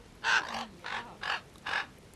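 A raven in an alpine valley gives four hoarse, evenly spaced caws, each about a quarter second long, fairly close against quiet outdoor background.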